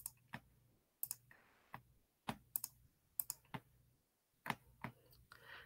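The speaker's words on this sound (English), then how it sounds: "that's what you'll type in your calculator" Button presses on a calculator while entering an inverse sine problem in a class, heard as a series of separated sharp clicks and taps, close and fairly quiet, with brief gaps between clusters.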